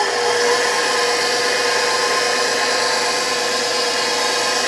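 Electric mixer stirring cake batter on speed setting 2, a loud, steady whirring hum with a high-pitched motor whine that holds evenly throughout.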